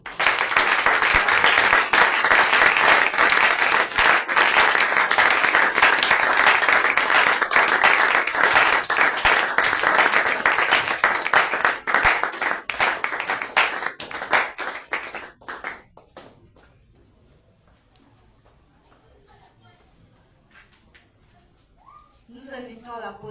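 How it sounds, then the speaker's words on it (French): A church congregation bursts into sustained applause and cheering to welcome ministers, dense clapping that fades out after about fifteen seconds, leaving near silence before a voice returns. "Sous acclamation, s'il vous plaît."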